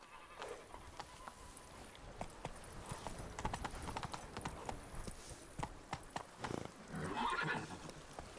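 Roach, a horse in The Witcher 3, gallops with steady clip-clop hoofbeats across the whole stretch, and a neigh or whinny rises near the end; the sound is fairly quiet overall and no one speaks.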